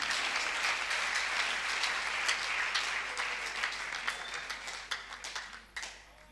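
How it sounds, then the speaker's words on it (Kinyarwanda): Sustained applause from a church congregation, steady dense clapping that gradually thins and tapers off toward the end. "Mukomere Imana amashyi."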